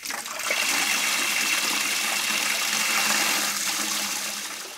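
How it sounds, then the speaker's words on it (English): Tap water running steadily from a faucet at full flow to clear the line before sampling a private well, a continuous rushing and splashing stream that starts after a brief pause and holds for several seconds with no voices. "turn on the faucet and let the water run for 5 minutes to clear the line."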